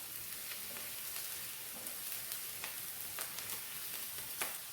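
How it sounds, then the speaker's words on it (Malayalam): Sliced onions with turmeric powder sautéing in a pan for a cauliflower kuruma, giving a soft, steady sizzle with faint scattered ticks of stirring, fairly quiet and continuous throughout, no voices. "ഈ വഴന്നു വരുന്ന സവാളയിലേക്ക് നമുക്ക് 1/2 ടീസ്പൂൺ മഞ്ഞൾപ്പൊടി ഇട്ട് കൊടുക്കാം. ഒന്നുകൂടെ വഴറ്റി കൊടുക്കാം."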